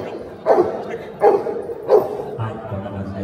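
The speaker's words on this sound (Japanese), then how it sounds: "ハンタウェイは羊に群れます。 大きな声でワンワンと吠えて羊を動かします。" A Huntaway sheepdog at a farm sheep show barks three loud, evenly spaced times close by, followed by a low rumbling tail of sound, with a voice speaking around the barks.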